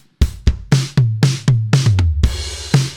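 A quick drum fill of tom hits rolling down in pitch, about seven strikes in steady rhythm, finishing on a loud, washy crash cymbal that rings out.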